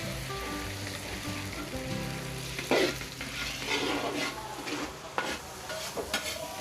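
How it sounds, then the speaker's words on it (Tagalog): Onion and garlic sauté in a pot for a Filipino pochero-style fiesta dish, giving a steady close sizzle. Occasional scraping stirs cut through it. "Nag-isa ulit tayo ng sibuyas bawang."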